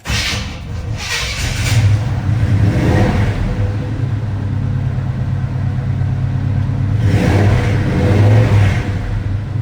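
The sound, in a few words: 1980 Chevrolet C-10 truck engine starting and revving with headers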